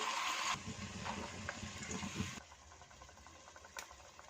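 Lentil soaking water poured into a pan of fried spice masala for dal palak, a close splashing gush for a couple of seconds that then thins to a faint trickle and quiet sizzle.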